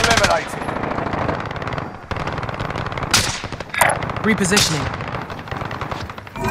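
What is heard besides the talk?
gunfire in Call of Duty: Modern Warfare video game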